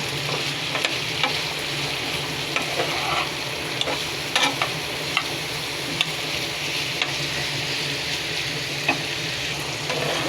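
Tomatoes, onions and green chilies fry in a pan while being stirred, giving a steady close sizzle. Light scraping clicks from the utensil recur throughout, and no one speaks.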